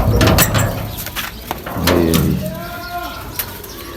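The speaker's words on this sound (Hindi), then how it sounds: "अभी सारे कबूतर खोल रहे हैं" Pigeons being released flutter and shuffle nearby with scattered wing flaps and soft cooing, plus some clattering and brief faint voices.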